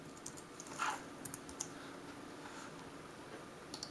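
Someone types on a computer keyboard while setting up a dual-boot of Windows 7 and OS X Lion, producing a few sparse, quiet key clicks close to the microphone with no voices.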